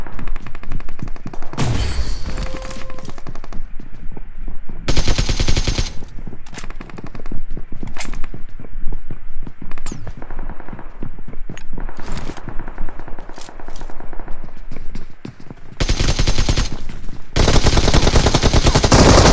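Automatic gunfire in the mobile battle royale game BGMI, loud bursts of rapid shots repeating in clusters across the stretch, with short gaps between volleys and dense rattling fire near the end.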